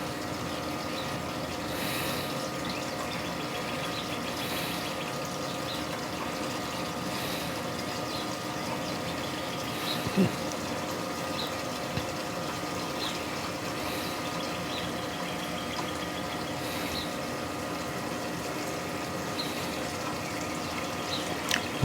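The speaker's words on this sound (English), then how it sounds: "So once I pump this out" A pump draws off liquid whiskey mash made from American single malt grains, producing a continuous low mechanical hum and gurgling churn that stays even throughout, with a few faint knocks and no talking.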